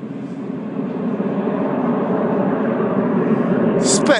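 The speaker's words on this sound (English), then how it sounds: "What a group of airplanes." A low, broad engine roar of the Red Arrows jet formation droning overhead at the 2013 Clacton airshow, holding steady and loud throughout.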